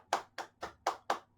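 Five evenly spaced hand claps, close and moderately loud, in a steady rhythm with nothing else around them.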